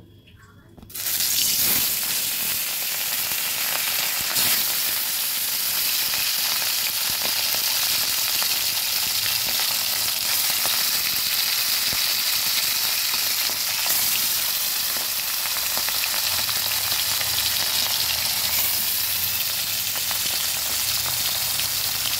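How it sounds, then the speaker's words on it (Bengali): Fish pieces dropped into hot oil in a wok burst into a loud sizzle after a brief quiet start, then keep up a strong, steady frying crackle and hiss throughout. "কড়াইতে তেল দিয়েছি, তেলও গরম হয়ে গেছে। আমি এক এক করে এবার মাছগুলো দিয়ে দেব।"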